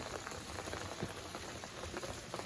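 Steady rain falling outdoors onto a garden rainwater collection barrel, a dense continuous patter of drops at even loudness with no voices.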